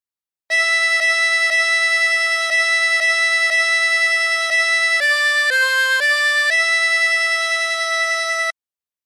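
A 24-hole tremolo harmonica plays the melody of Aura Lee, clear sustained reedy notes repeated in a steady pulse before a brief rising and falling phrase, close and alone.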